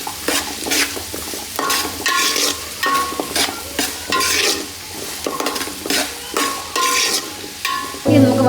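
Shallots sautéing in a pan for a Kerala-style fish head curry, a loud close sizzle broken by repeated rhythmic scraping strokes of a spoon stirring, with no one speaking.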